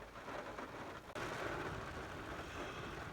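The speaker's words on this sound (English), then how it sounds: "But I can still hear a few raindrops." Light rain falls steadily as a dense, continuous patter outside a truck, with drops hitting the window and cab; a brief dip before the hiss resumes slightly louder and holds constant to the end, no voices.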